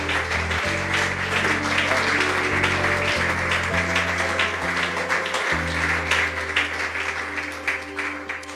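Church congregation applauding during a Portuguese-language service, broad sustained clapping that continues steadily throughout over a sustained organ or keyboard chord.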